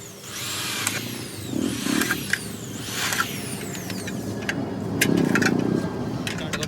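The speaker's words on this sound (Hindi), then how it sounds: "इसी तरीके से हम सारे जो चौड़ाई डंडे में होल करेंगे।" Holes being drilled into aluminium window frame pieces with a power drill, several short whining bursts with brief pauses between them, close and fairly loud over steady workshop background noise.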